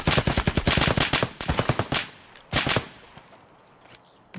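Automatic gunfire in Escape from Tarkov: rapid, loud bursts of close shots in two clustered volleys, then a short final burst before the sound fades into quiet ambience.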